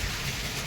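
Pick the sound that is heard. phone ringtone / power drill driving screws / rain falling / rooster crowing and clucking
rain falling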